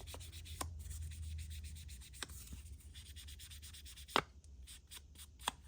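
Paper ID cards get their edges distressed by rubbing, giving soft, quiet, repeated scraping strokes in an uneven rhythm with a few sharper taps.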